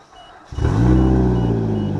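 A field car's engine cranks and catches at about half a second, then settles into a steady, loud, close idle with strong low harmonics.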